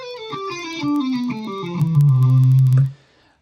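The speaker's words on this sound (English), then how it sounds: "And I have really high distortion now" Electric guitar played legato through heavy distortion, a smooth run of descending hammered and pulled notes that ends on a loud sustained low note before cutting off abruptly.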